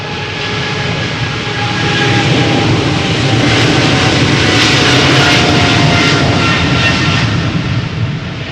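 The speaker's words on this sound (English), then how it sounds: "This is Air Canada Flight 809, Boeing 777-200 long range, 15 years old, first flight January 2008," Air Canada Boeing 777-200LR airliner on its takeoff roll at Amsterdam Schiphol, a loud broadband jet engine roar that swells past its peak midway and holds strong to the end, with no voices.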